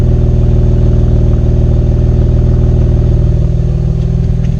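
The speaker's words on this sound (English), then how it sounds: "It was off all night and now this is just a warm idle." A warmed-up 2014 Camaro with an NPP exhaust and deleted secondary catalytic converters idles close by, giving a loud, steady, deep burble with a rhythmic low pulse and no speech.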